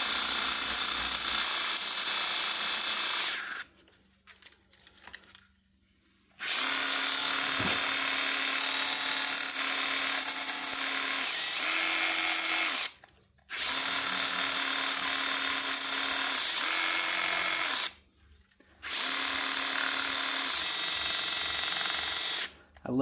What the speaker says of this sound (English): I love this DeWalt sander because it's a DCM 200 band file.